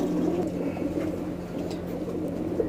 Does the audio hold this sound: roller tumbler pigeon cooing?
yes